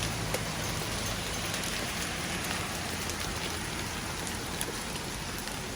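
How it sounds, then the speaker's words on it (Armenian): Hail pelts a balcony in California as a dense, continuous hiss of countless small impacts, loud and steady throughout, with occasional sharper ticks and no voices. "դուրս եկա պատշգամբ, որպեսզի նկարեմ ինչ կարկուտ է գալիս մեզ մոտ"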